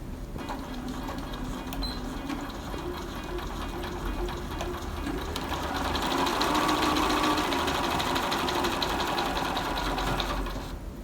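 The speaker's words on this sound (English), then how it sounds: "Okay, so I'm all pinned together, and I'm just going to sew around the edge." Sewing machine stitching around the edge of pinned fabric during paper piecing with a hemstitch attachment, a steady close mechanical whir and rapid needle chatter that runs continuously and grows slightly louder midway.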